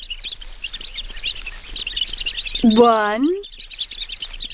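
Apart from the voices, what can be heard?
baby birds chirping in the nest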